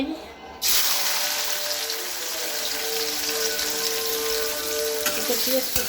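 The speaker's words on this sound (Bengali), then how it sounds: "এখন আমরা তেল দিয়ে দিছি। এরপরে কিছু পেঁয়াজ কুচি," Chopped onions hit hot oil with a sudden loud sizzle after a brief quiet start, then fry steadily with a dense, even crackle, a faint tonal hum and a few clinks near the end.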